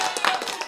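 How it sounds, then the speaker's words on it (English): One person claps quickly a few times in a brief burst during a sports talk show, the hand claps close and fairly loud. "Let me give you a round of applause, bro."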